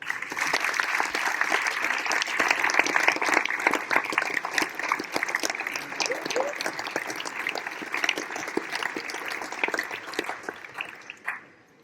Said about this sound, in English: Let's get a big round of applause for MK.DONS.